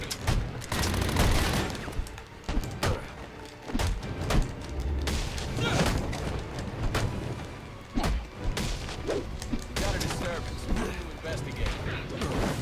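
Enemy gunmen in the Batman Arkham Origins video game fire bursts of rapid gunshots with heavy thumps and mechanical clanks, loud and dense for the whole stretch, with a voice occasionally talking over it.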